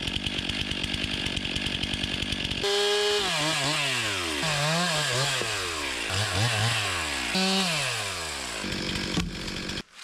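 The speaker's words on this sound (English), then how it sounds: "then take my chainsaw, cut some of them and take them with me" Chainsaw cutting through dry wood in a forest, a loud close engine idling briefly before rising into long revving cuts with repeated pitch swoops as the chain bites, then dropping back near the end.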